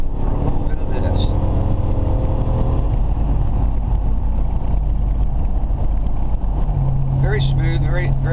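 A Lincoln Mark VIII drives through a congested town with a steady, loud engine rumble and road noise from inside or close by, and a rising tone near the end.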